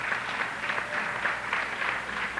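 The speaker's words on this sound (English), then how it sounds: "Please give them a great round of applause." Crowd applause at a Garifuna heritage celebration in Brooklyn, a steady wash of many hands clapping from a moderately distant audience, sustained throughout without talk.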